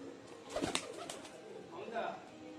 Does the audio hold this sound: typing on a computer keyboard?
no